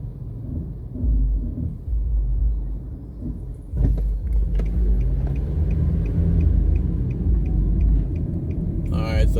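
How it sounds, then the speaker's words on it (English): Busy midday road traffic on a city street between Trafalgar Road and Oxford Road: cars rumble steadily past, heard from inside a moving car. The low engine and tyre drone is continuous and fairly loud, with a few sharper knocks. "so the traffic on the road is a lot more."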